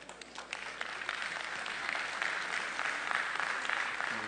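An audience at a conference welcomes a speaker with warm applause, a steady mass of many hands clapping at moderate distance with no voices over it.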